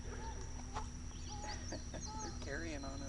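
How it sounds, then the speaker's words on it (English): Chickens cluck and squawk near a campground at Pirateland in Myrtle Beach. Busy, overlapping calls carry over a steady outdoor hum, and voices are faintly present. "There's some crazy birds over there."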